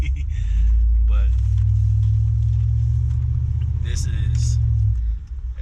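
A Chevrolet SSR truck's engine rumbles steadily while driving, a deep continuous drone close and loud, with the throttle briefly easing off near the end.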